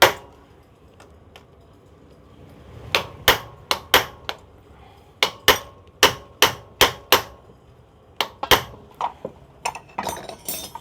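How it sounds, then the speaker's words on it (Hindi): Hammer blows punching a nut tight on a Honda CD 70 motorcycle engine: sharp metallic taps in quick irregular bursts, close and clear, with short pauses between groups. "हल्का सा इसको पंच करेंगे, ये नट जो है बिल्कुल टाइट हो जाए।"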